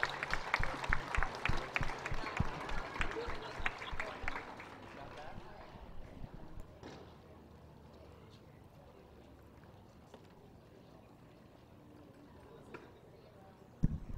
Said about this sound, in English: So I'd just like everybody to join me in giving these guys a big round of applause.